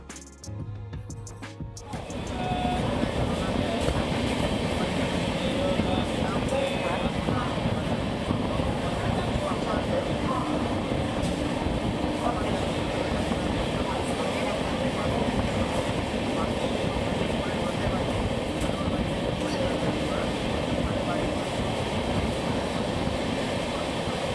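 Steady rumbling roar of the Sealdah–Benaras Amrit Bharat Express passenger train at night, heard from inside, constant and close, with faint rhythmic clatter throughout.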